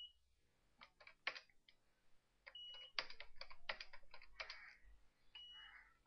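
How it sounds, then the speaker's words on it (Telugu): Typing on a computer keyboard while entering department data into an MS Excel 2003 spreadsheet: irregular bursts of close, crisp key clicks with short pauses between runs. "ఈ డిపార్ట్మెంట్స్ డేటాని టైప్ చేస్తున్నాను"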